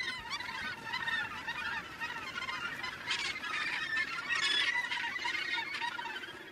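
A crowded gannet breeding colony calls constantly, harsh overlapping squawks and cackles from many birds at once, fairly close and steady with no talk.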